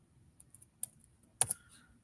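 Quiet, sparse tapping on a computer keyboard while entering a spreadsheet formula: a few light keystrokes, then a sharper cluster of two clicks near the middle, close and isolated with no talk.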